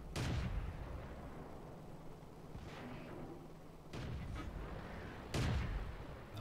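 M5 Stuart light tank firing its gun in World of Tanks on an arctic map, three sharp reports spaced a couple of seconds apart over a low engine rumble, with no talking.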